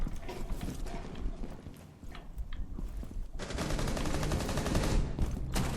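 Video game gunfire in a Thai multiplayer match, dense rapid bursts of shots that build into near-continuous firing toward the end, loud and with no talk over it.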